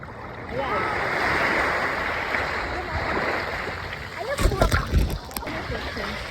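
Sea waves washing in and receding nearby on Samal island, with a burst of sharper splashing toward the end and some voices in the background.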